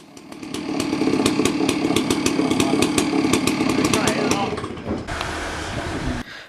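A chainsaw fixed to a log milling attachment carriage runs loud and close, its engine roaring steadily before easing back to a lower idle near the end.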